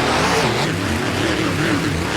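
Monster trucks roaring off the starting line in a racing video game, a steady dense engine drone with rising rumble throughout, loud and close with no talk.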